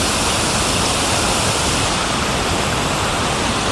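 Waterfall in an outdoor landscape, a loud continuous roar of rushing water that stays steady throughout, with no voices.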